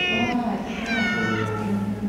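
Cats at a shelter for abandoned animals in Brest meow in overlapping, drawn-out cries that run continuously, close to the microphone.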